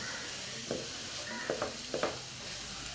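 Cabbage thoran sautéing in a pan, a steady soft sizzle broken by a few scraping stirs of the spoon, close and fairly quiet.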